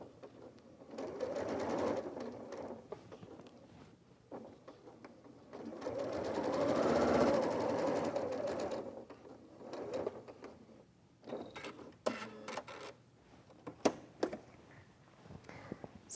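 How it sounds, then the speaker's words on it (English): A sewing machine stitches over knit fabric while attaching a pocket facing, running in steady mechanical bursts with short pauses between them, close and moderately loud, with no talking. "As you stitch, it's still a good idea to make sure that the knit fabric on the underside is flat before you stitch over it."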